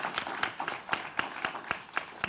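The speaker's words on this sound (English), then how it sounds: "could we offer a nice round of applause for Paul for keeping the conversation" A round of applause for Paul, the moderator of a National Indigenous Peoples Day panel discussion, rises from the evening audience as a steady patter of many hands clapping with regular sharp claps, moderately distant.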